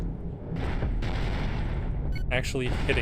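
Heavy cannons fire in the space combat game Cosmoteer, a dense rolling barrage of booms with a few sharp blasts toward the end, heard under a person talking.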